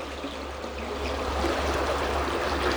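Creek water, clear after rain, rushing through a large culvert on its way to a river: a continuous broad wash and gurgle, fairly loud and close, with no voices.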